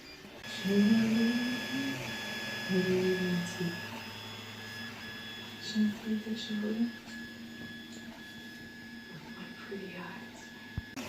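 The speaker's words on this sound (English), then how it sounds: "Alright, so I am doing a print here." A Creality CR-10S5 3D printer runs a print with quiet stepper-motor whines and chirps that shift in pitch over a steady fan hum. Brief tonal runs come and go for about eleven seconds, and a voice can be heard faintly.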